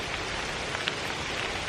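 Heavy rain pours steadily during a hike in a monsoon downpour, a dense, continuous hiss of drops hitting surfaces close by, with a few sharper spatters standing out, and no voices.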